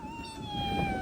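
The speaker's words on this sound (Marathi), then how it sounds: "माझं बारक मांजर आहे एकदम बारक" A single thin, high-pitched kitten meow, drawn out and fairly close, with no talking.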